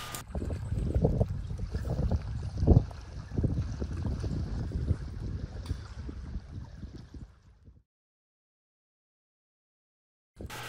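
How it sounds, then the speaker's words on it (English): A boat crossing a lake in Alaska with steady engine rumble and wind buffeting the microphone, cutting out abruptly before a brief return. "we load up into the boat and head across the lake"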